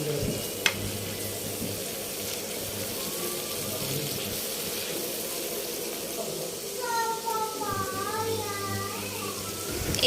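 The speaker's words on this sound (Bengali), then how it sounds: "আমি মশলাটাকে সাথে সাথে একটু নেড়ে দিচ্ছি যাতে আবার পুড়ে না যায়" Shrimp with turmeric and chili powder is stirred in a frying pan, giving a steady low sizzle with faint scraping under a person talking throughout.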